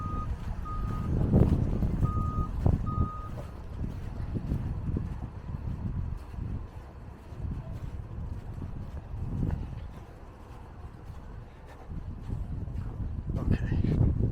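A bus reversing on a snowy Toronto street in a snowstorm, giving a few short electronic reversing beeps early on, over a low rumbling engine and wind noise outdoors.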